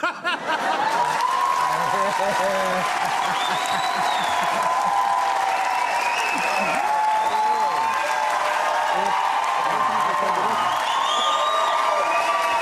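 Studio audience applause on a television talk show, a dense sustained wash of clapping with some cheers and laughter running steadily for about twelve seconds, loud and near.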